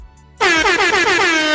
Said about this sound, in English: I gotta give her Jamaican air horn